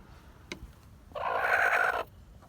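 A hen in a farm chicken coop lets out one loud, sustained squawk lasting about a second, preceded by a faint click.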